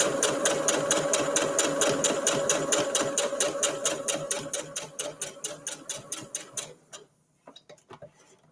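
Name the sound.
sewing machine stitching a Christmas tree table runner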